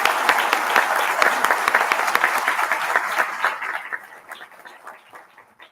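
A crowd applauds staff and volunteers at a July 4th naturalization ceremony, dense clapping that holds steady, then thins and fades out over the last couple of seconds.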